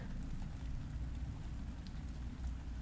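Steady rain falls on surfaces, a dense even patter with scattered brighter drops, unbroken throughout with no voices.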